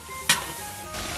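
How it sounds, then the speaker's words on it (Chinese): Hot pot base and seasonings stir-fried in a wok, a steady sizzle with one sharp scraping stir burst near the start and another swell toward the end, close and alone. "再来两块火锅底料。 把所有的料都炒香"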